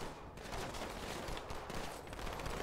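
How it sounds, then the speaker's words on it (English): Gunfire from Halo: The Master Chief Collection, a dense run of shots that fills the whole moment, loud and continuous like a firefight in full swing. "What are they shooting at?"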